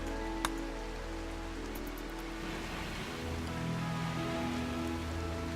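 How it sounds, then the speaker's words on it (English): Steady rainfall in the colony-building game RimWorld, a dense even patter with a low rumbling wash underneath, continuous and moderately loud throughout, with one small tick near the start. "We've got a lot of rain."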